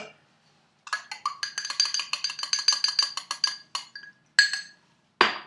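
Spoon stirring homemade lavender hand sanitiser in a glass container, a quick series of bright clinks and taps against the glass, close and clear, ending with a few isolated knocks.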